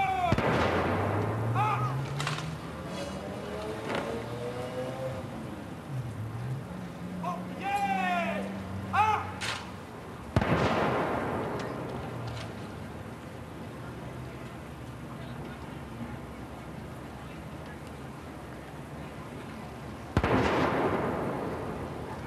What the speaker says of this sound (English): The 21-gun salute that you hear being fired in the background